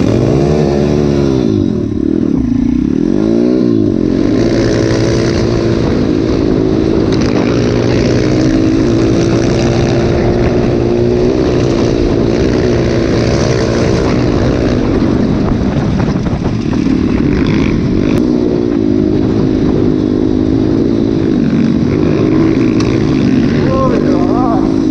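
An MRF 140 motorcycle engine runs loudly and continuously in cold weather, its pitch wavering as the throttle rises and falls, with voices heard over it.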